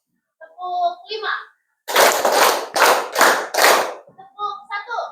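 Group hand-clapping in a classroom rhythm game: five loud, sharp bursts of claps in a steady beat, with a voice speaking and counting before and after the claps.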